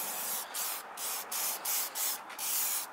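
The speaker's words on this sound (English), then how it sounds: "I got WD-40." WD-40 lubricant sprayed onto Toyota Tundra taillight bolts and wires: a series of short, close aerosol hisses, about seven quick spurts in an uneven rhythm, with no talk.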